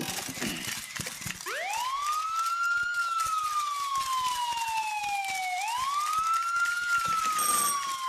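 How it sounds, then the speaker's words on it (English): An American police siren winds up loudly and wails in long rising and falling sweeps, close and prominent over a noisy background. "I think it's an American police siren"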